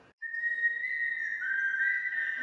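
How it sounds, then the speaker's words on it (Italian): A single steady whistled tone sounds close and clear, held for about two seconds with a slight drop in pitch midway, alone without talk. "Cioè fischietto forse è meglio."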